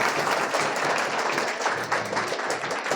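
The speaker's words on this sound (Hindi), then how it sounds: "तालियों की गड़गड़ाहट इतनी होनी चाहिए" An audience breaks into dense, sustained applause at a school award ceremony honoring a student, steady clapping filling the hall without pause.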